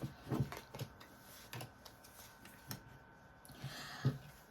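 Tarot cards being shuffled by hand during a reading, giving soft, irregular papery riffles and taps that come close and fairly quiet, with a slightly stronger flurry near the end.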